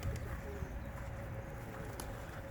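Pigeons cooing softly inside a pigeon loft, low murmuring calls over a faint, steady background hum.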